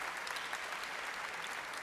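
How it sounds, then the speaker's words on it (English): A crowd applauding the grand winner of a cosplay contest at MagicCon Amsterdam, a continuous, fairly faint hall-wide wash of clapping with no breaks. "Let's hear a big round of applause for our grand winner, Soren!"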